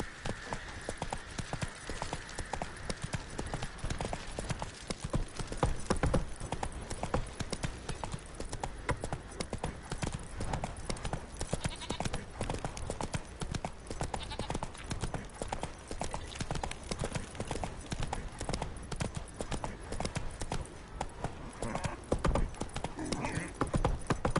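Roach, the horse in the video game The Witcher 3, trots along with a steady, continuous clip-clop of hooves, close and even throughout, with faint game ambience beneath.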